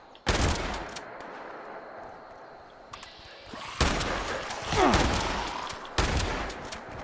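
Shotgun blasts at feral ghouls in Fallout 76 on PS4: several loud, sharp broadband bursts with short echoing tails, spaced a second or more apart, plus a few softer impacts in between and no talking.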